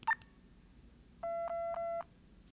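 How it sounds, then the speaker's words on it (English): After a tiny click, an iBill talking banknote identifier gives three short low-pitched beeps in steady succession, clean and close against near silence. "three low pitch beeps,"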